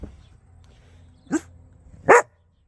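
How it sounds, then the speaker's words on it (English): A dog gives two sharp, separate barks, the second louder than the first, against a quiet homestead background with low rumble between them. "the barking's begun, has it?"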